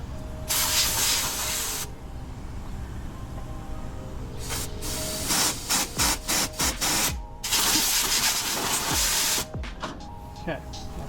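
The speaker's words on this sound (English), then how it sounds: "probably need to blow out that brake line while I'm thinking about it." Compressed air blasting through a brake line on a Ford F100 truck, loud hissing bursts of varying length, some long and some in rapid short puffs, up close with a low rumble beneath.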